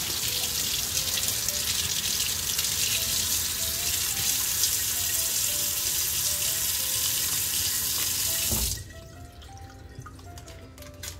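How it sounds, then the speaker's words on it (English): Glass etched with Armour Etch cream is rinsed under a running kitchen tap. The water splashes steadily and loudly for about nine seconds, then cuts off abruptly, leaving a quiet room. "and rinse it off."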